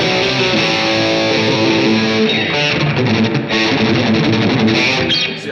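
An electric guitar runs through a high-gain distortion pedal, producing a dense, loud, saturated wall of sound with sustained chords that barely lets up.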